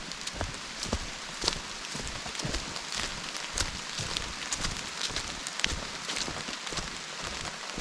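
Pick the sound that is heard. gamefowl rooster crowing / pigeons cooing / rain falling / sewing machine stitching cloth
rain falling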